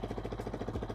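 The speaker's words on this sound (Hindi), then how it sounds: "सबसे पहले आपको एक साइलेंट प्लेस में जाना है और बाइक के इंजन को स्टार्ट करना है।" A second-hand motorcycle engine idles steadily in a quiet spot, a close, even low-pitched putter with regular pulsing and no talk over it.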